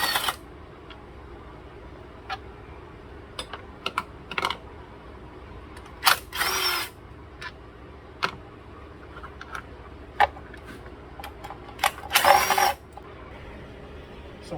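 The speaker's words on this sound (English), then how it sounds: "we're going to unbolt the valve cover with all these 10mm going around and remove it" Ratchet and socket work loosen the 10mm valve cover bolts on a 2012 Nissan Altima, sharp metallic clicks and ticks scattered irregularly, with two brief louder whirring bursts of ratcheting against a quiet background.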